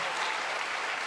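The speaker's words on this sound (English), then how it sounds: "Please help me give him already a round of applause." Audience applause at an INSEAD MBA graduation ceremony, a steady dense clapping that fills the hall at full volume with no voices over it.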